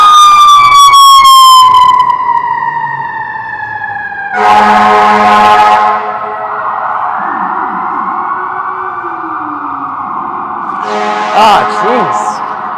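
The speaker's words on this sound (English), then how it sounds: "Wait, that was also a Hatsola ambulance." A Hatzolah ambulance siren wails loudly on a Manhattan street in Midtown East, a close, sweeping tone that dips and rises, with short bursts of horn and traffic noise along the way.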